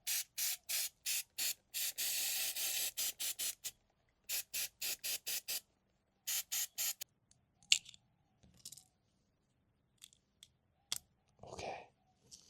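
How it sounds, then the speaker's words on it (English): Aerosol can of brake cleaner spraying onto engine parts of a 2007 Honda Accord Euro CL9 during an oil leak gasket repair: a run of short, sharp hissing bursts, then a longer spray, followed by more bursts and scattered faint clicks. "we're gonna spray everything down with brake cleaner again"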